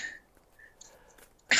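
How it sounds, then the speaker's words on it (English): A single sharp, close cough bursts out at the very end, following a stretch of near-silence with faint background noise. "What was that cough then?"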